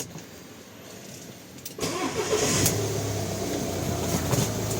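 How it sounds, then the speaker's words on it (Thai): Quiet background, then the diesel engine of a VW Caravelle T5.1 van with 180,000 km cranks and catches about two seconds in, settling into a steady low idle rumble. "ตอนนี้เราก็ทำการ สตาร์ทเครื่องยนต์นะครับ"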